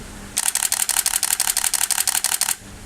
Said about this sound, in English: here is how the 7 frames per second continuous burst sounds like